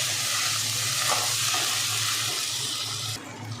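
Garlic paste and ginger paste frying in a pan, a steady hissing sizzle with faint stirring scrapes, close and continuous before dropping quieter near the end.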